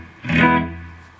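An electric guitar with a clean tone played through an Eventide effects pedalboard rings out as a single strummed chord that swells and decays with a reverb-like tail.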